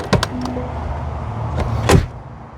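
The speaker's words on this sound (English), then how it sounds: "let's listen to the sound of the closing door." A 2025 Mercedes-Benz G580 electric G-Wagon door shuts with a solid thunk near the end, preceded by a few clicks and latch rattles; no one speaks.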